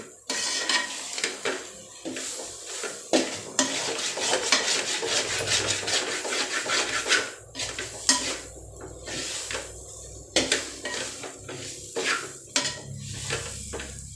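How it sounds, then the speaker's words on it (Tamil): Chicken curry masala sizzles and fries in a pan while a spoon scrapes and stirs it in repeated strokes, with frequent sharp clinks of utensil against metal, close and fairly loud throughout. "நல்லா சுவக்க கிண்டி எடுத்துருங்க"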